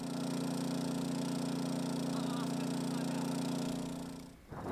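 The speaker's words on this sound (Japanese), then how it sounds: "ドローンは5合目から7合目までをおよそ5分半で往復でき" A heavy-lift drone ferrying sandbags, anchors and vegetation mats between the fifth and seventh stations of Mount Ibuki, its rotors making a loud, steady, close mechanical drone that holds throughout and cuts out abruptly near the end.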